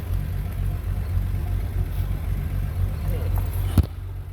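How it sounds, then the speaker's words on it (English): A stock flathead six engine in a 1940 Nash Lafayette idles steadily at close range with a low, even rumble, a brief clunk near the end, and someone talking over it. "As you can hear, the car's still running."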